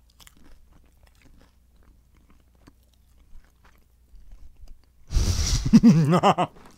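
After several seconds of near silence, someone bites and chews food dipped in Szechuan sauce close to the microphone, with wet crunching chews mixed with a voiced murmur.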